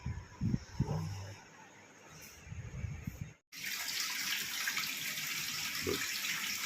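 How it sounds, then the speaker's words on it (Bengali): Dishes being washed under a running kitchen tap, with a few clinks of utensils, then the water switching on to a steady, close, loud gushing stream after a brief pause. "এবার বাসন ধোয়ার পালা"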